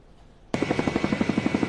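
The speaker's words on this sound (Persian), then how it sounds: "پرواز بالگردها در آسمان شهرستان پل دختر" Helicopters fly over flood-hit Poldokhtar in Iran. After a quiet start, a loud, steady, rapid thudding of rotor blades cuts in abruptly and continues.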